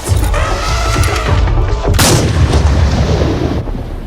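A loud, booming gunshot rings out in a first-person safari hunting video game over a dense rumbling roar, with a sharp crack midway and a gradual decay afterward.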